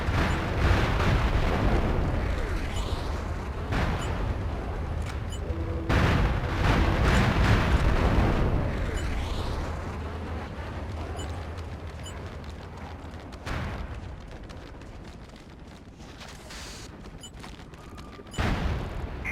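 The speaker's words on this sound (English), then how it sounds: "Bombers are a go and on target." Bombing run explosions in a military video game, a string of loud, heavy booms that roll into one another over the whole stretch, with sharper blasts near the middle and the end over a continuous rumble.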